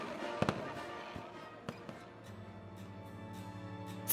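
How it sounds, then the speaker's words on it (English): Fireworks at a ceremonial Brooklyn Bridge celebration pop and crack in scattered sharp bursts over a continuous crowd-like hum, with a low musical drone coming in toward the end. "fireworks light up the sky"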